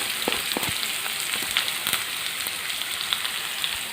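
Chopped shallots frying in oil with mustard seeds for a Kerala-style beef roast, a steady hiss dotted with sharp little pops and crackles, fairly close.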